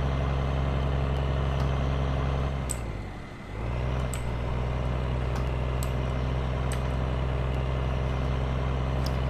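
A heavy truck driving in the Farming Simulator 2015 video game, a steady loud low engine drone throughout with a brief dip midway and faint clicks on top, no talk.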